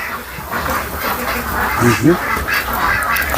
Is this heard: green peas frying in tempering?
no